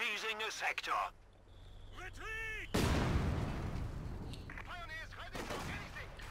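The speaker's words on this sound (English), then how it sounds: "Infantry section currently holed up inside the church, taking some mortar shots to the roof" Mortar shells slam into a church roof sheltering an infantry section in Company of Heroes 2, a loud blast with a long rumbling tail, amid scattered gunfire and a voice talking over it.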